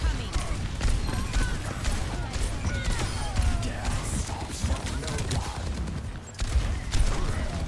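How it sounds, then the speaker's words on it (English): Dense, continuous explosions and gunfire from a rocket barrage in a team shooter video game fill the whole stretch, with players talking over the chaotic battle noise. "Rocket barrage incoming"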